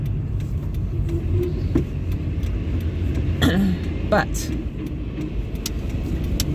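A car driving through heavy afternoon traffic gives a steady low road rumble and engine hum throughout, with a person talking briefly over it.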